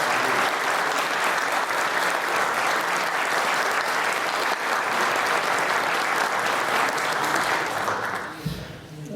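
Hearty audience applause at an off-road competition briefing meeting, a thick, loud wash of clapping from a roomful of people sustained for about eight seconds, then quickly fading out near the end.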